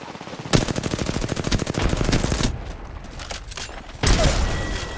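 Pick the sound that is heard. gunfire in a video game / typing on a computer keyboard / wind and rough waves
gunfire in a video game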